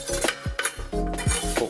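Kitchen knives and cutlery handled in a hotel apartment kitchen, a few quick metallic clinks and knocks close by with no talk.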